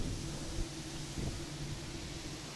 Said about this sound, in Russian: Смотри, да, гудят, как слышишь, провода?